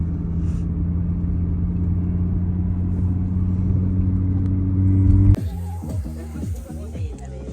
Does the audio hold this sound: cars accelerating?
yes